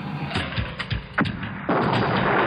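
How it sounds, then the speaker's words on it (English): Reused stock-footage plane explosion from a low-budget movie: a few muffled thumps, then a sharp boom that opens into a loud, steady roar to the end, with no talk. "You can't get multiple stock footage explosions?"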